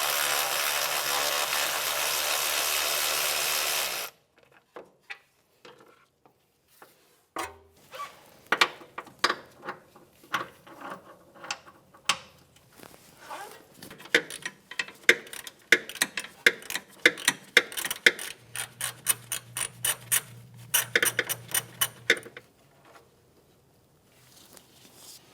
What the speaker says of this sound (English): we'll come back with our electric tool